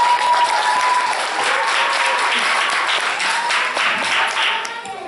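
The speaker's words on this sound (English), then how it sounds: "please give them a round of applause again." Audience applause at a church talent show, full, sustained clapping from a crowd that stays loud and even before thinning slightly at the end, with a faint tone and murmurs beneath.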